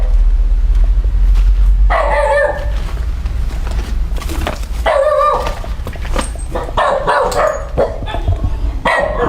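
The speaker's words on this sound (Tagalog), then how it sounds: "Ang galit ng aso." A dog barks angrily in a cemetery at night, loud, harsh barks coming in several separate bursts over a steady low background rumble, with faint voices in between.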